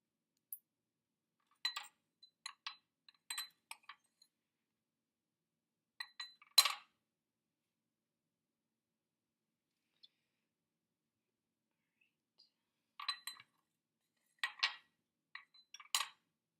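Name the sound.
stacking pennies, paper and nickels into a coin battery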